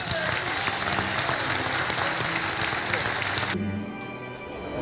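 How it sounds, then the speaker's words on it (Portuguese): An audience giving warm applause, with dense, sustained clapping that cuts off abruptly near the end and leaves quieter room noise. "Quero que vocês mais uma vez o cumprimentem com a calorosa salva de palmas."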